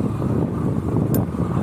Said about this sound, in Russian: Все, ветер поднялся.